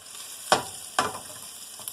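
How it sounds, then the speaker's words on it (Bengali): Spices frying in a pan for a Bengali vegetable labra, a steady soft sizzle broken by two sharp stirring scrapes close by and a faint third tap near the end, with no talking. "একটু ভাজা ভাজা করে নিলাম।"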